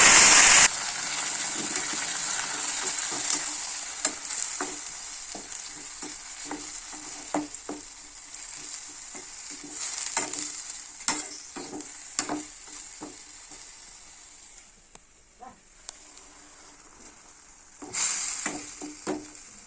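Ground onion paste with cinnamon, cloves and cardamom sautéed in a pan for peas kurma: a close, steady sizzle with frequent scraping stir clicks, fading quieter before a brief louder burst near the end.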